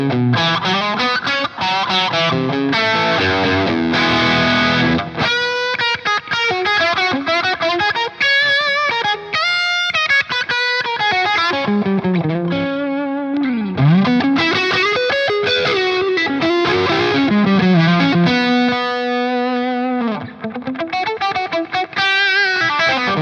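An electric guitar, a Smitty custom T, plays through a Dophix Michelangelo Overdrive Plus pedal with every knob at noon, giving a loud, continuous overdriven tone. Sustained chords mix with melodic single-note runs and bends, and there are no voices.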